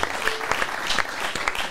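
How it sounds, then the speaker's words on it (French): A live audience at a comedy festival applauds, a crowd's dense, continuous clapping with a few sharper individual claps standing out, close and sustained throughout. "Gardez les applaudissements pour Anto à ma droite."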